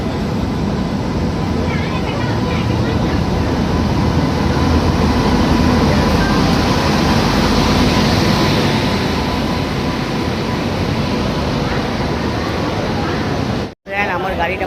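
A train standing at a railway station in Odisha gives off a steady, loud, broadband rumble and hiss that fills the whole stretch, with faint voices murmuring underneath and a sudden brief cut near the end.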